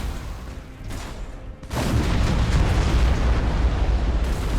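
Torpedo explosions in the space battle game Battlefleet Gothic Armada 2: a quieter rumbling stretch gives way to a sudden loud, sustained roaring blast that stays heavy and dense to the end.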